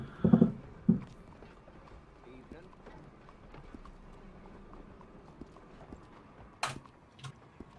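Horse hooves clip-clopping in the Red Dead video game, a couple of near, sharp hoof thuds at the start and again near the end, with quiet ambience between.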